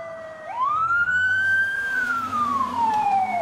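Police car siren in an AI-generated street chase scene, one loud rising-and-falling wail sweeping up then slowly down, close and clear over low traffic rumble.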